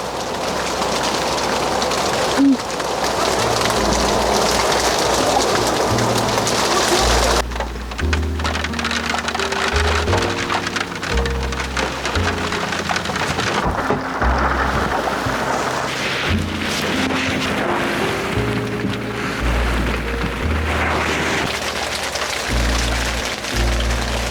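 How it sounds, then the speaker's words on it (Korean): Steady rain pours down continuously at a campsite, a dense hiss of drops with low rumbling underneath, heard up close for the whole stretch. "아, 빗소리 너무 좋다."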